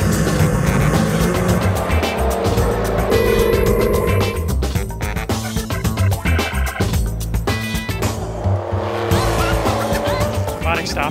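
Loud race car engine revving and roaring through gear changes, with tire squeal and rushing noise, continuous and close, during flying laps at the Silverstone Classic race.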